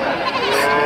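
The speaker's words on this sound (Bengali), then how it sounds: "এখানে দেশি বিদেশি ছাগল পাবেন এই হাটে" At a large goat and sheep market, a goat lets out a single loud, close, wavering bleat that lasts under a second.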